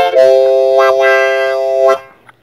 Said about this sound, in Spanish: una armónica afinada en fa, que vemos que el tono de fa es casi el más agudo que hay de todo el rango